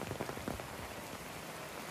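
Rain falls steadily in a monsoon downpour, pattering onto an umbrella overhead during a walk, a dense, even hiss of drops with soft irregular taps, heard close and continuous.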